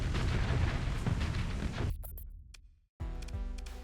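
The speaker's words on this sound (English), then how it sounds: "All the ghosts just simultaneously exploding." Several ghosts exploding at once in a space-colony video game: a dense, loud roar of blasts that cuts off sharply, drops to near silence, then bursts back in with a fresh rumbling wave.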